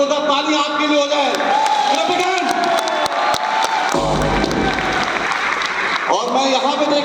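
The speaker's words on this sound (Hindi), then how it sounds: "एक बार जोरदार ताली आपके लिए हो जाए" A large seminar audience in Indira Gandhi Stadium in New Delhi bursts into loud, sustained clapping and cheering with whoops, while voices carry over the crowd.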